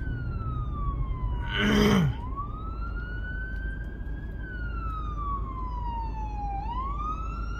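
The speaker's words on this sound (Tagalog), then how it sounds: "Stop tayo, may ambulansya." An ambulance siren wails, sweeping slowly up and down, heard over steady road rumble, with a brief burst of louder noise near the start.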